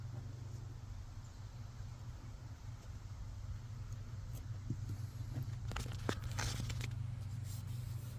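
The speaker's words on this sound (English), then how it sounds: "I've got a piece of West Virginia chrome known as duct tape. I'm going to put it on." Duct tape being torn from the roll and pressed on during a carbon monoxide shutdown repair on a Predator 9500 generator, brief ripping and rubbing near the end over a steady low engine-like hum.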